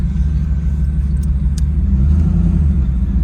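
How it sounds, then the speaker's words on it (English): A 1991 Chevrolet Camaro Z28 pulling through the gears, its engine a loud, steady low rumble heard from inside the car, with no talking. "We're gonna take it up here and let it go through the gears one time."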